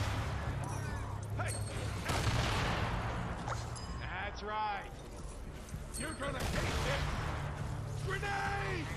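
Repeated grenade explosions and gunfire ring out over several seconds in the video game Fortnite: Save The World, mixed with game sound effects and some talking.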